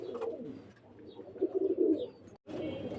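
Pigeons of a pure Pakistani breed coo softly and steadily at close range, a low murmuring that swells in the middle, stops briefly, then resumes.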